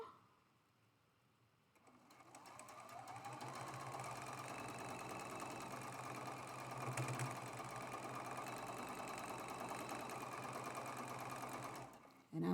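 Close by, a sewing machine hums steadily through a thick quilt seam after a short quiet start, its rapid needle rhythm continuous and fairly even before stopping abruptly.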